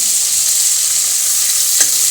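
Fish oil frying in a pan for a homemade Bengali macher tel chorchori, a steady loud sizzle running throughout with a brief crackle near the end.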